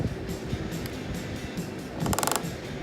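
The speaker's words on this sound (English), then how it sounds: "I'm going to put a clamp here just to give it a little extra hold" A clamp ratchets tight on the wooden frame of a homemade cornhole board, giving a burst of quick mechanical clicks near the end, close and fairly loud over a quiet workshop background.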